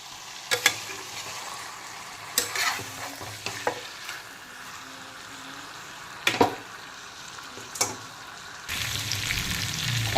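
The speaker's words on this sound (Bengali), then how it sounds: "সব কিছু এঁচড়, চিকেন আর আলুগুলোকে একসঙ্গে খুব ভালো মতো মশলার সঙ্গে প্রথমে মিক্সড করে নেব।" Jackfruit, chicken and potatoes being stirred with spices in a pan on low heat, sharp scraping spoon strokes at irregular intervals over a faint sizzle that swells louder near the end, with no speech.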